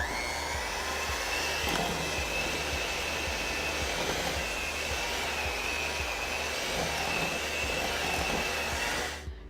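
An electric mixer creams cream cheese, mascarpone and dark brown sugar for pumpkin cheesecake. The motor gives a steady, close whir with a faint high whine and no talking over it.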